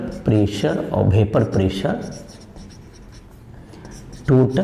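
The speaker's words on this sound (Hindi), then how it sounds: "यहां पे लिख देते हैं टोटल" Marker or chalk scratching on a board during a Class 12 chemistry lesson on vapour pressure, heard beneath a teacher's speech, with the writing clearest in a quieter stretch midway.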